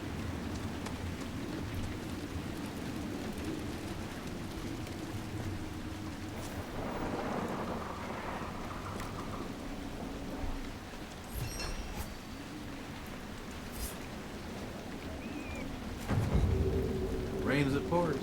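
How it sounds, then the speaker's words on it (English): Steady rain pours in Dragon Age Inquisition with low rumbling thunder rolling underneath, a dense even hiss throughout, and a heavier crash near the end. "Seems like it's always raining everywhere I go lately."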